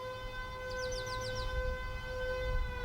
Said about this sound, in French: Il est un peu plus de 10h quand la sirène retentit sur le site de la Sarah.